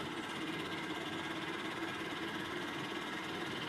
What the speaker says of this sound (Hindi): अचानक रिक्शे का इंजन अजीब आवाज करने लगा।